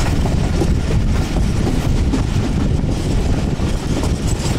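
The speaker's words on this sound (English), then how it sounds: "Pakistani trains, man. They're shaking." A Pakistani passenger train on a long-distance journey rattles and shakes along the tracks, a loud, continuous rumble with dense clickety-clack throughout and no voices.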